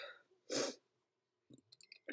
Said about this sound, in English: Sneezing and coughing and sore throat.